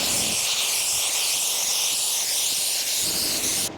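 Spray gun laying a base coat of paint onto the bonnet of a 1986 Chevrolet Monte Carlo SS during a post-crash rebuild, heard as a steady, close, continuous hiss with no break or talk.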